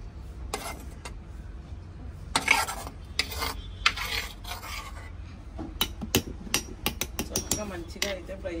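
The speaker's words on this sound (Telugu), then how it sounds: "ఇప్పుడైతే మనం దంచుకుందాము ఇందులో వేసుకుని" Fried gongura leaves are pounded in a stone mortar for chutney, with scattered close thuds and scraping strokes that quicken into a run of sharp repeated knocks toward the end.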